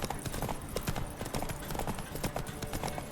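Horse hoofbeats clatter in The Witcher 3 game in a fast, steady galloping rhythm that is loud and close, running continuously under a dense background of game sound.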